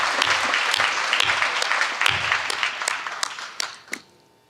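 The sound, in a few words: audience applause at a gala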